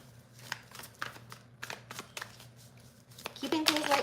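Tarot cards shuffled by hand in a series of crisp riffling bursts, close and moderately loud, with a voice talking underneath.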